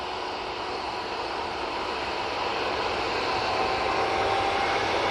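Airbus A320-200 jet engines spooling up on the runway at Manchester Airport, a steady broad roar heard from a distance that swells slightly louder over a few seconds, with no voices.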